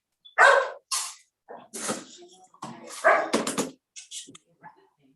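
Dogs at an animal shelter bark and yip in short, loud, close bursts separated by brief pauses, with a few softer whimpering sounds between them.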